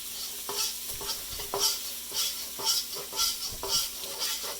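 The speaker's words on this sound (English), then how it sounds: "I keep moving that, stirring that around, trying to get a little flavor into the oil, into the cooking oil." Ginger and garlic stirred through hot cooking oil for a stir-fried broccoli dish, a steady bright sizzle broken by a regular rhythm of spatula scrapes and pushes, close and moderately loud with no talking.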